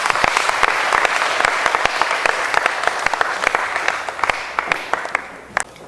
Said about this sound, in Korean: 예, 박수 해주시기 바랍니다